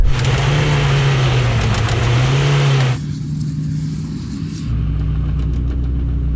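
A Ford truck's engine revs hard and holds a strained drone while pulling in a tug of war against other Ford vehicles. The pitch drops after a gear change, and the engine keeps roaring close by.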